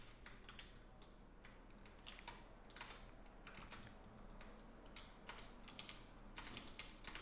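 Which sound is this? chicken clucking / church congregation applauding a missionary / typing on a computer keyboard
typing on a computer keyboard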